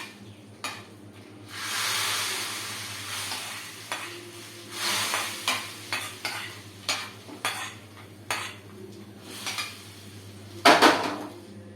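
A pot of mango vathal kuzhambu with fried vadam being stirred in, giving repeated close metallic scrapes and clinks of a spoon against the pot over a soft sizzle, with a sharper cluster of clatters near the end.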